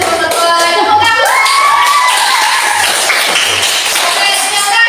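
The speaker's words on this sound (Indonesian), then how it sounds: "Tepuk tangan." A primary school class bursts into applause and cheering, a dense, loud wash of clapping with children's voices mixed in throughout.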